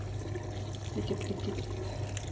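Cold water poured into a cooking pot, a quiet, steady splashing trickle close by, with a brief spoken word over it.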